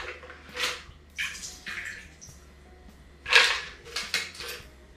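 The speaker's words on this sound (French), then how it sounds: "On vient égoutter l'eau du shaker." Water being drained from a chilled cocktail shaker while mixing a Papa Doble daiquiri: several short splashing pours in separate bursts, fairly close and clear, with no talking.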